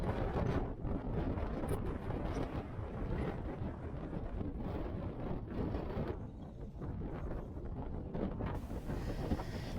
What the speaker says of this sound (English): I don't know if you can tell how windy it is.